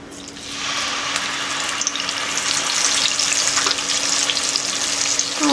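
Ground spice paste dropped into hot oil with a torn bay leaf and a halved dried red chili: a loud, close, steady hiss of frying that swells after the first half second and holds evenly throughout.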